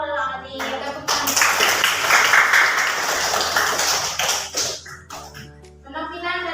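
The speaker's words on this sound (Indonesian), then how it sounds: "Tepuk tangan." A classroom of students claps their hands together in a dense, sustained burst of clapping lasting several seconds, with voices mixed in at the start and end.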